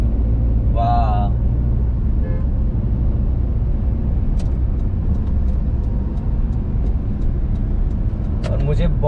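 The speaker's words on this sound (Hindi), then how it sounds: "गाड़ी ड्राइव कर रहा हूँ मैं" A car driving on a road in Gurgaon, its steady low engine and road rumble loud and continuous throughout, with a brief voice and a few faint clicks over the top.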